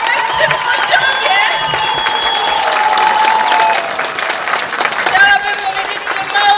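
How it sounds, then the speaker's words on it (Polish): Loud applause mixed with cheers and whistles from an outdoor crowd at a Midsummer Night festival, honoring dancers; sustained and energetic with shouting voices throughout. "Naprawdę gromkie brawa dla tych tancerzy na najwyższym poziomie."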